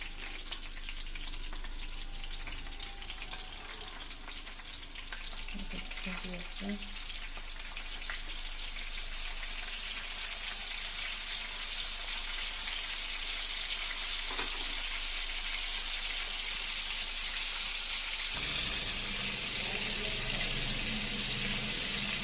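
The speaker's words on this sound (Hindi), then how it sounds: "ये देखें जी, हमारा ऑयल बहुत अच्छे तरीके से गर्म हो चुका है। अब हम रखने लगे हैं इस पर।" Chapli kebabs made from raw minced beef frying in hot oil in a pan over a medium flame, giving a steady, dense sizzle throughout with a few soft clinks and shifts from placing the patties.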